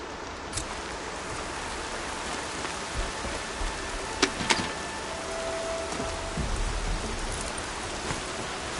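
Steady rain falls continuously in a video game as broadband hiss, with a few sharper drips and small clicks scattered throughout.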